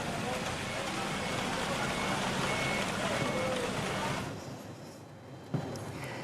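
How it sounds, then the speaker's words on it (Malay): A tow truck hauls flood-damaged cars, its engine rumbling steadily alongside broad road noise before the scene drops quieter near the end with a brief knock. "lori tunda juga kelihatan menarik kereta-kereta yang rosak selepas dimasuki air banjir"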